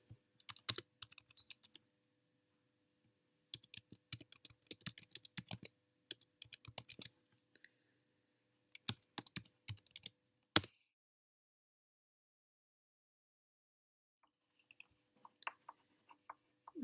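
Typing on a computer keyboard, close and quiet, in several bursts of rapid key clicks separated by silent pauses, ending in a few sparse taps.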